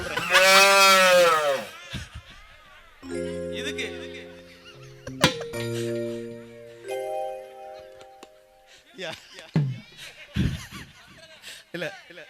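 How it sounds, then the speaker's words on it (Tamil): Cows moo loudly in several long, drawn-out calls over a stretch, with people talking and laughing between and around the calls. "அந்த மாட்டை கத்த விடுங்க எதுக்காக கத்துதுன்னு நான் சொல்றேன்"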